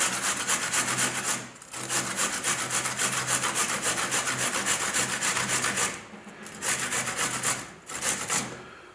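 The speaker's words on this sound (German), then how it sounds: "auf dieses Küchentuch reiben wir uns ganz einfach die Gurke drauf" A cucumber is grated over a kitchen towel for tzatziki, making steady rhythmic rasping strokes that are close and fairly loud, with a couple of short pauses between runs.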